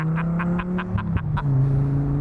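A 1993 Dodge Viper drives with a steady low engine drone, briefly surging as the throttle blips, with a rhythmic ticking pulse running through it, close and fairly loud.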